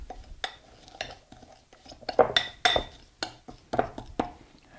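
Metal utensil mashing cooked eggplant with sesame seeds in a dish, a series of close scraping clinks and soft squelching thumps in an uneven rhythm, with no talk.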